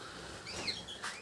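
Young goldfinches and canaries kept in captivity give faint, high chirps and thin calls, a couple of brief notes standing out over soft background noise.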